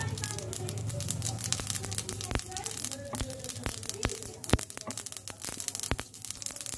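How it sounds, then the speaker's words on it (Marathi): Mustard and cumin seeds crackling in hot oil in a pan, a dense run of sharp, irregular pops and spits close up over a low sizzle. "आपली जिरी मोहरी छान तडतडली"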